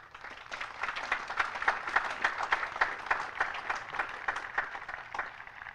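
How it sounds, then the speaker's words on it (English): A crowd applauds steadily for several seconds at an Army cadet graduation ceremony, dense overlapping claps forming a continuous wash at moderate volume with no voices. "let's give them a round of applause"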